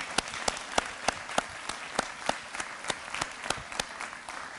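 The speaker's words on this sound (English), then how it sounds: "we need a round of applause for all the staff that have worked so hard for 5 years" A sparse crowd at a health sciences center groundbreaking ceremony applauds the staff, with a steady patter of claps and a few sharp nearby hand strikes, heard faintly from a distance.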